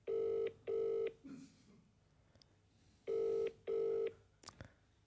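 A phone call rings through on a handset in two pairs of short, steady electronic buzzes separated by a gap, fairly faint, with a few soft handling noises after.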